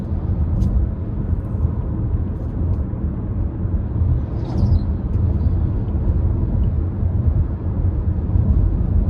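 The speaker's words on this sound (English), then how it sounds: "this is a more industrial road here, so road noise, you can hear it here" Steady low tire and road rumble fills the cabin of a 2025 Kia Sportage SX-Prestige on an industrial road, loud and continuous with a brief lighter hiss midway.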